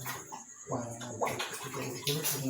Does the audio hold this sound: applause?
no